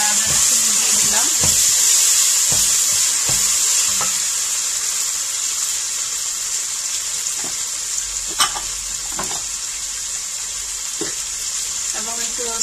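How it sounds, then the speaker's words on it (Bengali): Rice fries in a pan with mutton, ginger and garlic, making a loud, steady, close sizzle. Sharp spoon clacks against the pan break through it at irregular intervals. "যেহেতু আমি চালটা একটু কষিয়ে নেব, তাই একটু হালকা আদা রসুন দিয়ে দিলাম।"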